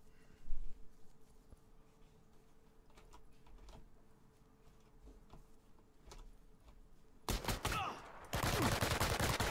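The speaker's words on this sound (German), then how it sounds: "Da hinten wird geschossen." Distant gunfire in a shooter video game: faint scattered pops and cracks over low ambient rumble, followed by louder, harsher bursts of noise near the end.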